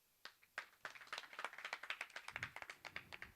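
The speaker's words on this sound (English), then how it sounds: "With a big round of applause, let's welcome CA Sony CL." A conference audience breaks into applause to welcome a speaker to the stage, starting with a few scattered claps that quickly build into dense, rhythmic clapping from a crowd of students.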